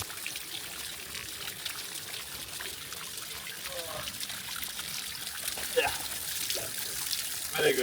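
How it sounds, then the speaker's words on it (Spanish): Hot geothermal spring water trickles and bubbles steadily outdoors, a continuous close wash of splashing and dribbling, with faint voices underneath. "El agua de aquí está caliente, es como agua termal, hay mucha energía geotérmica. Oh, está ardiendo. ¿Está realmente ardiendo el agua? Oh, it's boiling."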